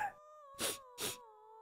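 An eerie creature howls from inside a hole, a shrill wail like an infant's cry mixed with a drunk's shout. Sustained moaning tones are broken by two loud, rough bursts, close and alone.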